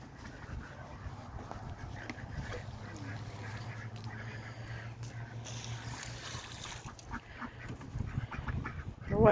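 Ducks quack in an outdoor farmyard beside a chicken tractor, with a steady low background hum and scattered quacks and calls rising near the end.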